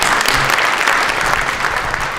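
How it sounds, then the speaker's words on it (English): Applause fills a banquet room at a corporate mentoring awards dinner: dense, steady clapping from many hands, loud and sustained throughout. "a few rounds of applause"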